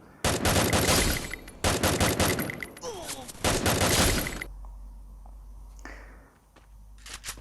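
Automatic gunfire from the video game Free Fire, with three loud sustained bursts of rapid shots, then quieter game ambience and a few faint clicks near the end.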